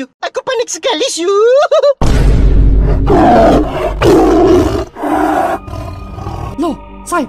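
A tiger roar sound effect in an animated comedy story, a loud rumbling roar that fills most of the clip. It follows a short burst of high, quick cartoon voices and ends with a few faint, tailing calls.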